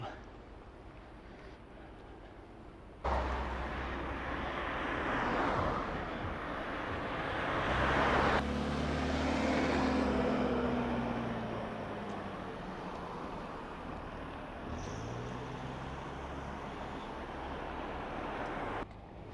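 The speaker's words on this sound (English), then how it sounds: "Again, just being passed by the 6:15 Coral Bay bus." A bus on the Coral Bay seafront road in Cyprus rumbles past nearby, the engine noise swelling and then fading over several seconds beneath ongoing talk and a steady outdoor background.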